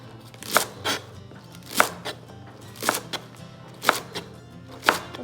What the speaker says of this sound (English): I'm gonna be using a handful of these green scallions here. I'm gonna cut